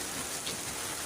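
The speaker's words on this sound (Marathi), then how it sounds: "पाऊस पडटा खूप." Heavy rain pours in Khorlim, Mapusa, an unbroken dense hiss filling the whole short stretch with no voices.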